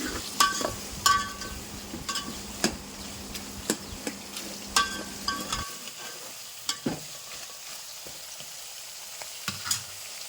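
Bottle gourd and drumstick pieces stirred in a pot for Muslim-style dalcha, with scraping spoon strokes and soft clinks repeating over a steady low sizzle, close and alone.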